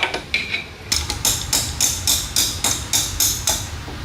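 Repeated metal-on-metal hammering with an improvised hammer on a turbocharged 10HP diesel go kart, about a dozen sharp, evenly spaced strikes close to the microphone.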